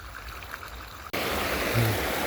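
A water channel is opened and water suddenly gushes out, a loud, steady rushing flow that starts abruptly partway through and continues to the end.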